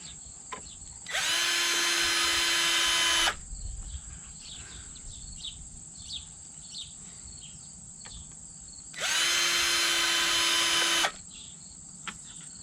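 A power drill drives two screws into a Mr Beams floodlight bracket outdoors, two loud, steady whirring bursts of about two seconds each, separated by a quiet stretch with crickets chirping in the background.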